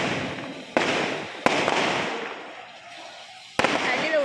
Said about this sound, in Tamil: ஃப்ரெண்டில் வந்து நல்ல வான வெடிக்கைலாம் போடுவாங்க